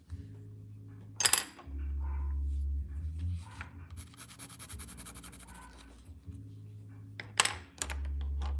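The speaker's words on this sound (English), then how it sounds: "can you hear your dog barking her head off?" A dog barks in the house, two short sharp bursts set apart by several seconds, heard at moderate distance over a low background hum and light household clatter.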